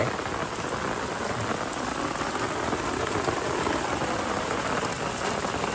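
Steady rain pours down outdoors beside a dried-out fishing spot, a dense, even hiss of drops hitting the surface with no pauses and no other sounds.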